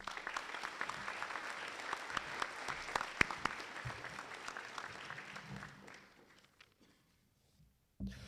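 Applause rings out for a guest speaker at a Veterans Day ceremony held at a high school, steady clapping from a sizable audience that thins out and fades to near silence before a brief sound at the end.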